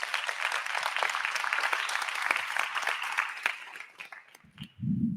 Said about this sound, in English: So can we just get a round of applause for them as well